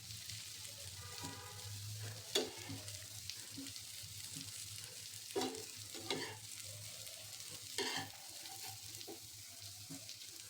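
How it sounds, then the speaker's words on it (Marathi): Oil crackles softly around stuffed bitter gourd frying in a pan, with a few sharper stirring or spatula knocks over a quiet, continuous sizzle and no talking. "दुसऱ्या साईडने पण 3-4 मिनिट असंच फ्राय होऊ द्यायचे"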